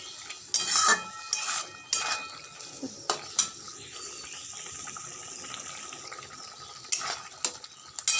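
A curry of potato and elephant foot yam is stirred in hot tempering, with soft simmering sizzle under intermittent scraping, clanking strokes of a spoon against the pot, close and without speech.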